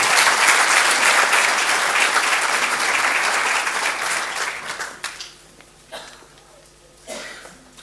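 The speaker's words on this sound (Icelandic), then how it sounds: "við skulum gefa honum gott klapp" A university graduation audience applauds an absent business law graduate, a dense, loud wash of many hands clapping for about five seconds before tapering into scattered coughs and murmurs.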